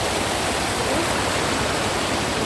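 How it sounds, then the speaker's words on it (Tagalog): Strong river current rushing over a rocky bed of small stones, a steady, dense roar of flowing water filling the scene without pause or voices. "Ang lakas ng agos dito."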